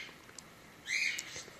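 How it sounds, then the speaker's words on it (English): A cockatiel calls in the background of a home, a short bright chirp rising around the middle of the moment over a quiet room, with a few fainter chirps before and after. "You can hear the cockatiel in the background."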